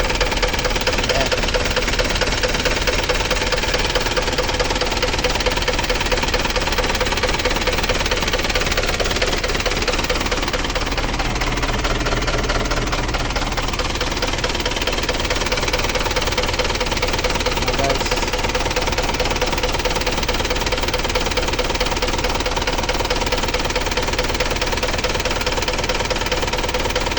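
A steady, loud engine runs continuously with a knocking, rattling idle that never lets up.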